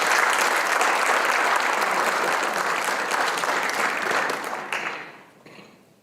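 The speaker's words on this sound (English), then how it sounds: "Please give a round of applause for Jazzmyne Robbins." An audience applauds at a high school hall of honor induction ceremony, dense sustained clapping from a full hall that holds steady, then thins and fades out over the final second.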